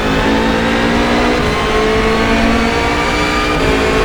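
A BMW race car in rFactor 2 roars past at full throttle, its engine a loud, continuous high-revving drone with a slight pitch shift, and no voices over it.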